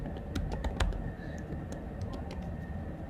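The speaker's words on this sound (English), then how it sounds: "Click right here, and I'm gonna type magazine." Fingers tap out a short burst on a computer keyboard while text is entered into a logo design, quick light clicks at close range against a quiet room hum.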